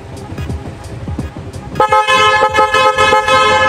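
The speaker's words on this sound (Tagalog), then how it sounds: "Ayan yung busina" Horn on a Yamaha Sniper 150 motorcycle fitted with an aftermarket horn, sounding loud and close in a long, sustained blare after some engine and background noise at the start.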